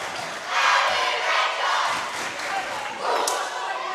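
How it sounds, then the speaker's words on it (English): Baptist Prep home crowd and bench cheering at a high school volleyball match, loud surging shouts and yells rising in waves over a gym's echo, with a sharp cry near the end. "between the bench and the crowd, they sure do make a lot of noise over there"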